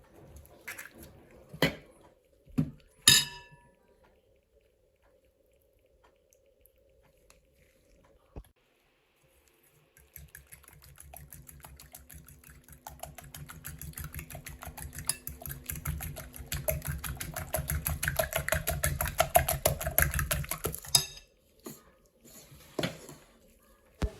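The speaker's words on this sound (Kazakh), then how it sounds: "Осы қоспамызға бөлме температурасындағы 2 жұмыртқа мен сұйық майымызды қосып, біркелкі болғанша жақсылап араластырып аламыз" Eggs and oil are beaten into a lemon cookie batter in a bowl, with a steady rattling scrape of continuous mixing over about ten seconds, preceded by a few sharp knocks and clinks.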